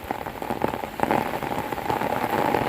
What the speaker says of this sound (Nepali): सोलुखुम्बुको हेलम्बुबाट फर्किँदाखेरि पानी पर्यो